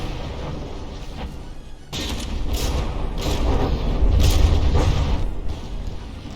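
In the From the Depths naval game, battleship guns fire and shells burst, making a steady low rumble with heavy booms and mechanical clanks that grow stronger as the salvos build, and no talking.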